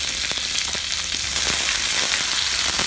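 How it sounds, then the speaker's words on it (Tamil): Shallots, chillies, garlic and curry leaves frying in a pan for carrot chutney, a steady close sizzle with light stirring clicks. "எல்லாமே கொஞ்சம் லேசாக வதங்கட்டும்."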